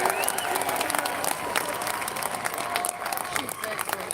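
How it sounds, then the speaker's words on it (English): Outdoor crowd applause with some cheering for speaker Iona Soper at a Palestinian solidarity march in Glasgow, steady clapping mixed with voices talking in the crowd, easing slightly toward the end. "Please give a massive round of applause to Iona Soper."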